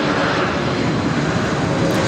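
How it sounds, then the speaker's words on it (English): An Air Canada airliner takes off at LAX, its engines giving a loud, sustained roar that fills the air steadily and evenly from close range. "This is Air Canada 559 taking off to Vancouver."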